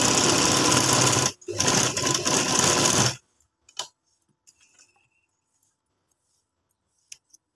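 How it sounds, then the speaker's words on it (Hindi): A sewing machine stitches a criss-cross inner hijab cap in two loud, steady runs of rapid mechanical whirring broken by a short pause, followed by quiet fabric handling and a few faint clicks. "इसी तरह रखकर सिलाई लगाएंगे तो खुद ब खुद इसका सेंटर बन जाएगा"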